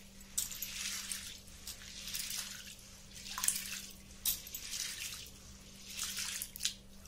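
Sorghum grains being rubbed and rinsed in water in a wide pan, with repeated soft swishing, splashing bursts at an irregular rhythm, close and fairly quiet, over a steady low hum.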